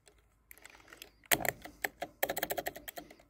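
Typing on a Dierya DK63 mechanical keyboard gives rapid, close clicky keystrokes in irregular bursts, with a pause and then a denser flurry of clacks.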